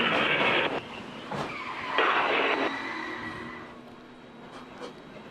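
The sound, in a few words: NASCAR Cup race car wrecking, onboard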